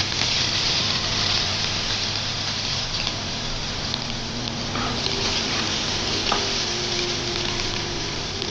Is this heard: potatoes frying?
yes